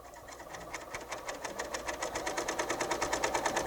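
A Bernina L890 sewing machine stitches along a garment slid over its free arm, a steady rapid mechanical chatter that holds an even rhythm and grows slightly louder and faster, close by with no talk.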